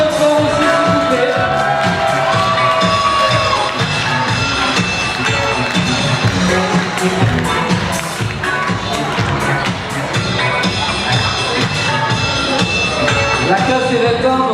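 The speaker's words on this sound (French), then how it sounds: "On l'applaudit bien fort aussi, s'il vous plaît." A large festival crowd gathered for a queen election applauds and cheers for a candidate, a dense, loud, continuous wash of clapping with scattered shouts and whoops throughout.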